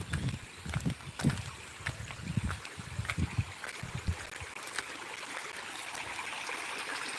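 Water flows steadily with a soft, continuous rushing hiss, somewhat slowed after a day without rain, while a few low thumps and knocks sound up close early on.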